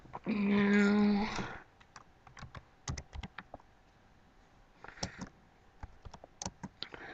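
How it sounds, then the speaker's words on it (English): Typing on a computer keyboard to enter coordinates, a run of light, irregular key clicks close by, coming in short bursts after a brief louder noise at the start, with no one talking. "this is just typing in my coordinates"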